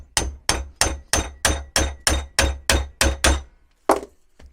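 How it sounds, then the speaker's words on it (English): A hammer whacks the old front gearbox mount on a VW T25 van in a run of about eleven sharp, loud, evenly spaced metallic blows, then a short pause and a couple of final hits. "Just start by whacking it, see what happens."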